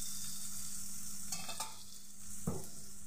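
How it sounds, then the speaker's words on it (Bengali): Gobindobhog rice being stirred into spices and tomato frying in a pan, a steady soft sizzle with a few scraping stirs and one sharp clink near the end. "দিয়ে দেবো গোবিন্দভোগ চাল।"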